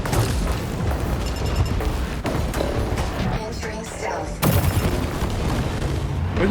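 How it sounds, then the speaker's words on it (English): Homing missiles from the video game War Robots: Frontiers hit a stealthed robot in a run of heavy booming impacts and rumbling blasts, with a strong burst near the end. "Why do the homing missiles still hit me in invisibility?"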